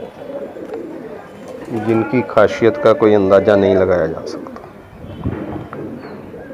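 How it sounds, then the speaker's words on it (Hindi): Fancy red-eyed pigeons coo close by, a rolling, throaty burst that swells in the middle of the clip, with someone talking in Hindi over and around it. "ये वो शानदार कबूतर हैं"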